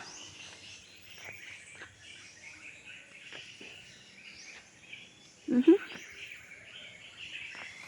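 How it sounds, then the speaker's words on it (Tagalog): Insects chirp steadily at the Philippine Eagle Center, a faint, continuous high buzzing through the whole stretch, broken by a brief louder bump of sound partway through. "Ang daming insekto."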